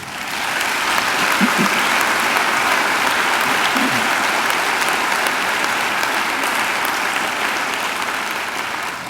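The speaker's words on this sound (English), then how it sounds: "She deserves another great round of applause" Applause from the audience at an MQ university graduation ceremony in April 2015: a dense, loud, sustained wash of clapping that fills the hall steadily and evenly for the whole stretch.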